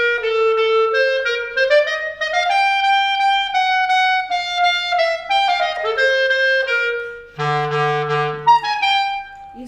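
Solo clarinet playing a passage from Weber's Clarinet Concerto No. 2, clear and close, with a flowing melodic line of steady subdivided notes and a low held tone near the end.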